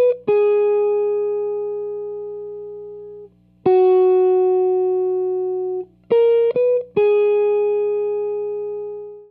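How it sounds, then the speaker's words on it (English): An electric guitar plays a piece read from the score in reverse: four long sustained notes, each starting with a sharp attack and ringing clean and steady before decaying, with a quick pair of short plucks near the end. "I'll then record the piece reading the music backwards"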